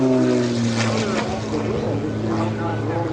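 An aerobatic propeller plane snaps through a manoeuvre, its engine droning loudly with shifting, wavering pitch while a commentator talks over it.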